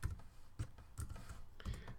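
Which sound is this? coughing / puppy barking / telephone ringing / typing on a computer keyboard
typing on a computer keyboard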